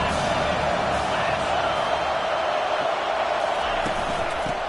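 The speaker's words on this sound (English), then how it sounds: "Here comes the crowd trying to make it tough on third and long." Stadium crowd noise roars steadily through a third-and-long down in the football video game Madden 23, a loud, dense wash of cheering with no break.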